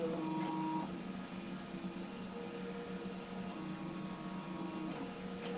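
An embroidery machine sews a trace stitch, giving a steady, close mechanical whir and hum with faint tonal whine that runs without a break.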